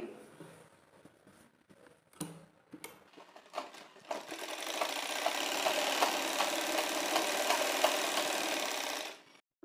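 After a few handling clicks and taps, a sewing machine runs a straight seam on a six-panel petticoat, a steady close whirring buzz lasting several seconds before it stops abruptly.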